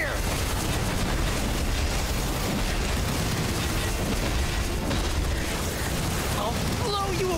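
Cannon barrage fire in MapleStory pounds without letup, dense blasts and explosions piling into a constant loud roar, with a voice mixed in beneath the din.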